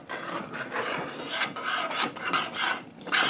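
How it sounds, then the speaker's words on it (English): A spoon scraping the bottom and sides of a pot of cooking rice pudding (arroz con leche), with repeated close rasping strokes in an uneven back-and-forth rhythm, no talking. "I'm scraping the bottom and sides of this"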